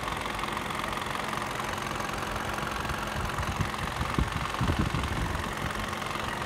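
A car engine idling after a cold morning start, with a noise coming from the intake camshaft, heard close up as a steady rumbling idle with a few louder knocking pulses near the end.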